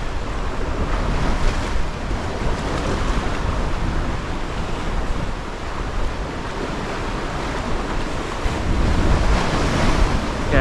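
Stormy sea at Oxwich Bay on the Gower, with a swell running: waves surge and wash continuously while strong wind buffets the microphone, a loud, unbroken roar with no voices.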